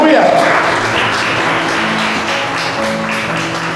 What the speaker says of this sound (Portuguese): Palmas para Jesus novamente.